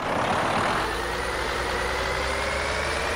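Kenworth T660 truck engine in Euro Truck Simulator 2, a steady loud low engine drone with a slight rev swell early on, continuous throughout.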